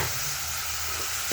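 Garlic, tomato and drumsticks frying in a pan, an even, steady sizzle and hiss that holds throughout, close and fairly loud, with a brief stir near the end.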